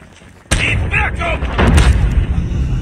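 Gunfire in the Call of Duty video game hits with a sudden loud blast, then keeps going as heavy, rumbling shots and booms close by, while voiced callouts speak over the combat.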